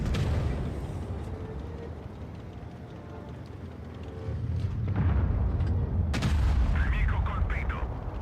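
Video game gunfire from a shooter, several sharp shots rising out of a dense, rumbling battle din that swells louder toward the end, with a voice talking partway through.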